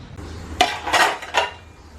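Metal pots and pans in a home kitchen clatter and clank in three quick bursts, close and loud, with no talking.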